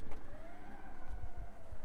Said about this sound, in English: So we'll close the boot.